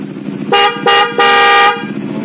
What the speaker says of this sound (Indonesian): Untuk klaksonnya di custom menggunakan klakson Denso.